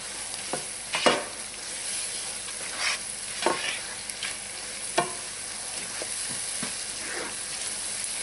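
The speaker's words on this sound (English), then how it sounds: "so I'm going to add the rest of the spices in here. And stir them in." Spices being stirred into a shrimp étouffée in a pan, heard as a steady close sizzle broken by repeated spoon scrapes and taps at an uneven pace, with no talking.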